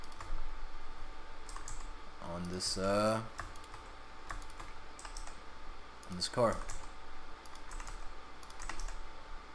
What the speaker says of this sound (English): So I'm just using G and R and the axis keys.